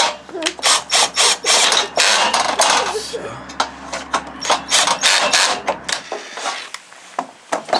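Metal parts of a heat-resistant metal fire bowl clank and rattle in quick, uneven knocks as its legs are fastened to a side panel, with a person speaking during the work.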